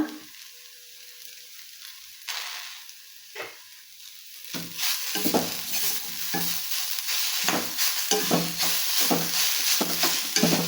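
Banana thoran with grated coconut is stirred in a hot pan: a steady sizzle with repeated scraping spatula strokes, growing busier and louder toward the end.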